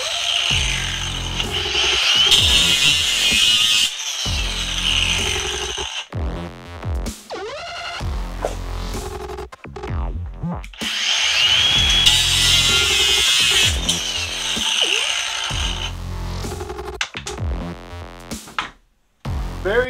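A new FLEX angle grinder with a cutting wheel bites into metal in repeated loud bursts, the high whine rising and dropping as the disc cuts, with brief gaps between passes.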